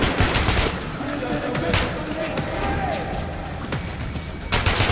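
Gunfire in Metro 2033 Redux rattles in rapid, dense bursts through nearly five seconds of loud, busy combat noise, with a few sharper reports near the start and end.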